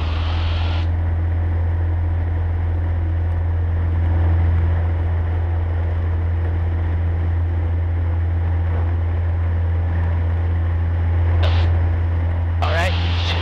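A Cessna 150 engine runs at full throttle for takeoff, a loud, steady droning roar heard from inside the cockpit, with voices talking over it.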